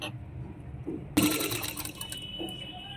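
A sewing machine runs a straight stitch along fabric for a Rajasthani kanchli blouse, starting abruptly partway through and continuing as a soft, steady mechanical whir in a quiet room.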